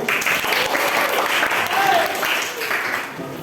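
Audience applause for the first participant in an Indonesian classroom teaching session, a steady, moderately loud patter of clapping from a group, continuing throughout with a voice faintly audible underneath.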